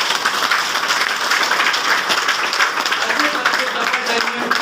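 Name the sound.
audience clapping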